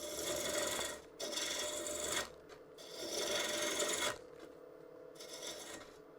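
A gouge cuts into a large ash bowl spinning on a wood lathe, producing a faint, steady rasping scrape in repeated passes of a second or two, with a slight rumble in the cut.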